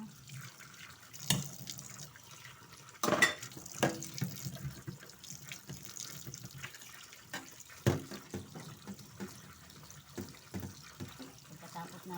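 Dishes washed under a running kitchen tap: a steady trickle of water with scattered clinks and knocks of dishware, fairly close and moderately quiet.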